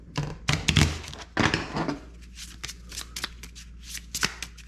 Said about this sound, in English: let's get them shuffled up here real quick